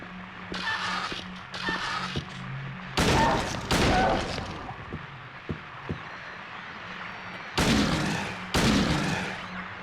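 Pistol fire in the horror video game Silent Hill 2, a handful of sharp, loud shots spaced irregularly over steady background ambience, with short gaps between bursts.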